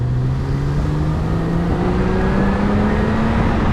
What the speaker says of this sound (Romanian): O 6 linie de BMW clasic. Un sunet mai mult mecanic, mai mult metalic decât melodios.